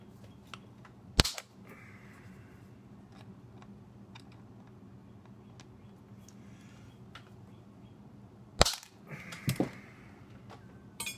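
Long screws on a dummy guitar pickup are snipped with sharp, loud metallic clicks, one early cut and a later cluster of snaps, separated by a quiet background hum.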